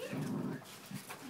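A dog whimpers close by in a few soft, drawn-out whines separated by short pauses, with faint background noise.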